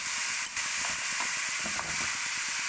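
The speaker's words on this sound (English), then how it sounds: "I'll put the entire gajar or the grated carrot" Grated carrot hits hot ghee in a pan and sizzles with a loud, continuous hiss, steady throughout with faint stirring taps beneath.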